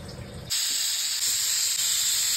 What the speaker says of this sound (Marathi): आणि झाकण लावून आपण 4 शिट्ट्या करणार आहे।